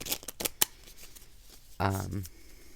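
Close, crisp Lenormand oracle cards being shuffled on a bed in a few quick riffles, followed by a brief buzzy noise.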